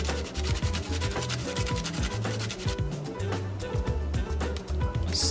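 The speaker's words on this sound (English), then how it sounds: "Stir that cheese in." A spoon stirring Parmesan cheese into cheddar and ale soup in a pot, producing steady scraping and rubbing strokes with a repeated rhythm, close and fairly loud, over a droning background tone.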